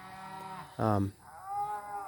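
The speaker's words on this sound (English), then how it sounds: "Cows are looking like they're wanting to move" Cattle on a farm moo in long, drawn-out calls, one louder bellow in the middle with softer moos before and after, moderately distant.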